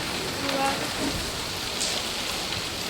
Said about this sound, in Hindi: बारिश आ रही है दोस्तों